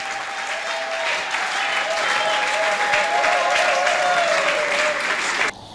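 A large crowd at an election meeting applauds and cheers loudly for a newly announced team, a dense steady roar of clapping with some voices and whistles, stopping abruptly near the end.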